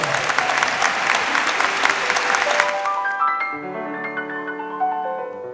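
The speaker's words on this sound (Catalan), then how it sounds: "un aplaudiment de benvinguda" An orchestra audience in a symphony concert auditorium gives a warm round of welcoming applause that fades out after about three seconds, giving way to sustained instrumental tones, likely a keyboard instrument, playing alone.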